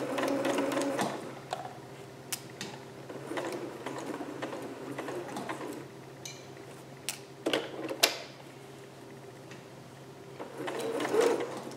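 A sewing machine runs a regular 5/8 inch stitch through thick fabric, stitching straight over many pins, its needle whirring in steady bursts broken by short pauses and a few sharper clicks, close by.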